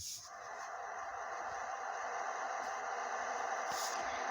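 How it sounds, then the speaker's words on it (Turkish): A noisy car in the Minecraft video game makes a loud, steady, strained whine with a harsh rasping drone, broken by a couple of short bursts. "Arkadaşlar arabadan garip garip sesler geliyor bu arada bakın."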